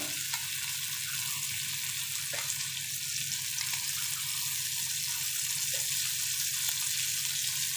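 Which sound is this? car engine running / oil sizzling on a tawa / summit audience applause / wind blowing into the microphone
oil sizzling on a tawa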